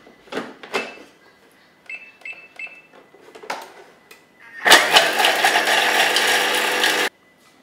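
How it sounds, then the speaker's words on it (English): A Thermomix chops garlic and dried rosemary on speed 7. A few soft clicks and beeps come first, then a loud, dense whirring roar runs for about two and a half seconds and stops abruptly. "We're going to chop it for 3 seconds on speed 7."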